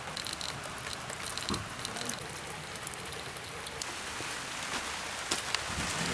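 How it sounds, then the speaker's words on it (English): Steady rain patters across a hard surface, a dense wash of drops with occasional sharper splashes, continuous and fairly close. "It's still raining."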